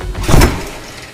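A single smooth whoosh as the door of the world's fastest production car swings open, loud and close, rising quickly and then fading out.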